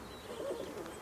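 Pigeons cooing nearby, a short soft warbling coo in a quiet indoor setting.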